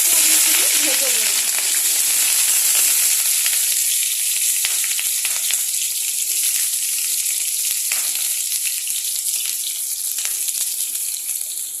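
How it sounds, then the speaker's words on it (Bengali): Cauliflower florets and potato pieces fry in hot oil in a kadai, giving a loud, continuous, even sizzle with a few small crackles, briefly joined by a faint voice at the start. "এখানে আমি ফুলকপি আর আলুগুলোকে আমি এখানে ভেজে নেব"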